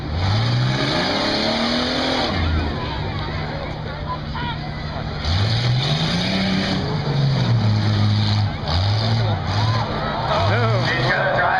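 A 1990 Jeep Cherokee at a drag strip event revs and accelerates in rising and falling engine sweeps through repeated gear changes, while an announcer talks over the racing engine the whole time.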